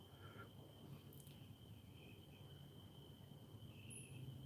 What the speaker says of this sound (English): There's crickets I can hear.